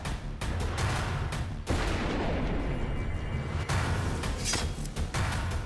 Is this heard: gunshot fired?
yes